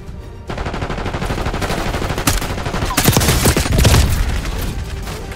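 Continuous rapid gunfire in a multiplayer match of the video game Call of Duty: Black Ops 6, loud and close, with overlapping bursts and heavier booming shots building toward the end.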